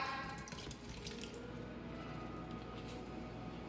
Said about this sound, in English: You want to make sure you drain most of the juice off.